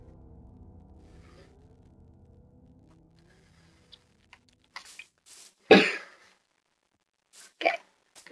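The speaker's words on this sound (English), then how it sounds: "Why am I still coughing?" A person coughs and clears their throat indoors, a few short separate bursts with one louder harsh cough in the middle, after a quiet stretch of faint background hum.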